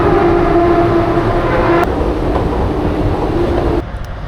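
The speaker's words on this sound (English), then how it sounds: "I'm gonna take the tram 1 stop" A tram in Porto rumbles along at steady loudness, its low mechanical drone and wheel noise filling the scene before it drops in level near the end.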